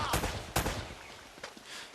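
Gunfire from an enemy in the Uncharted video game, with two loud close blasts followed by smaller scattered shots over a busy game background.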